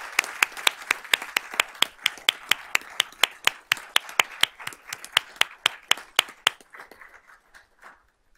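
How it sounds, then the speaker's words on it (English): Students being applauded at a school board of trustees meeting, a room clapping in sharp, even rhythm that slows and fades out near the end, with no talking. "let's give all of these students a round of applause."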